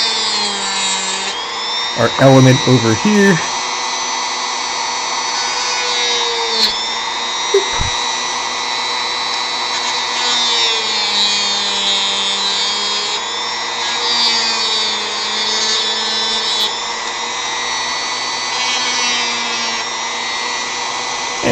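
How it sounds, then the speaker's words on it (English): A power tool drills and carves a handmade Final Fantasy V model's rear back foot, running in a steady high whine nearly the whole time with small shifts in pitch, and a voice speaks briefly near the start. "But we do need to drill this down. I want to carve this down,"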